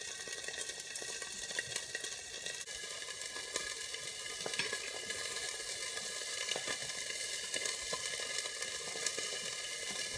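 Salmon fries in melting butter in a pan, giving a steady close sizzle with scattered small pops and crackles that continue throughout.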